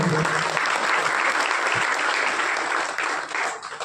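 Audience at a Gaur Purnima drama and dance festival applauding the performers, a loud, dense and continuous wash of clapping that holds steady before easing slightly near the end.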